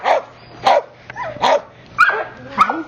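A dog at a humane society shelter barks and yips about five times in an uneven rhythm, loud and close, with a few softer whimpering notes between barks.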